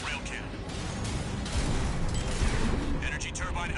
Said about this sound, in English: Preparing to fire rail cannon.